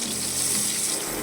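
Onions frying in a pan for a Bengali tengra fish curry, a steady dense sizzle with bright crackle, close and continuous with no talk.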